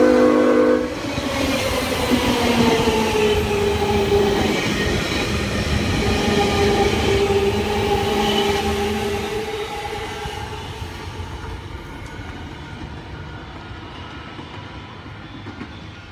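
A train rolls past Lawnton Station with a loud horn sounding two tones at the start, wheels clattering and rumbling before slowly fading into the distance.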